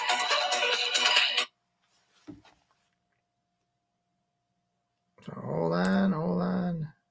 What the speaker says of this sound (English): There's a hot phone. I got to shut it off.